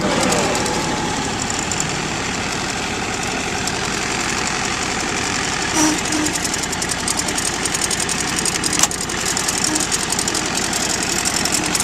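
A 2004 John Deere X575 lawn tractor engine runs steadily at a low idle, close and continuous with a rough mechanical texture and no voices.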